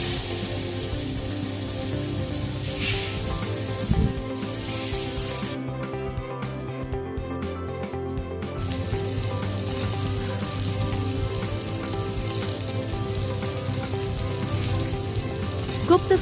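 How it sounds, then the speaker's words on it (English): Surmai fish fries in mustard oil on a tawa with a steady, dense sizzle and crackle throughout. A brief dip partway through is followed by the full hiss returning, and no one speaks. "Cook the fish on both sides."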